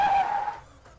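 A car drifts and skids in Uncharted 4 on an African safari-zone track, a loud half-second tire squeal that fades quickly into quiet.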